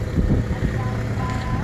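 A Honda Civic EJ6 with a huge exhaust leak idles in a steady, low, rough putter, continuous and fairly loud, with wind buffeting the microphone throughout.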